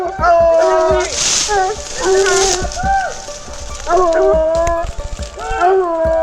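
A hunting dog barks and bays repeatedly in excited bursts during a wild boar hunt amid steady rain, with people speaking over it.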